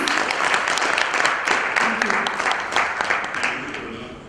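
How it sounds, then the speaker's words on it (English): A conference audience at a PR and corporate communication summit gives a loud round of applause, dense steady clapping with brief crowd noise throughout. "Can we do with a loud round of applause, please?"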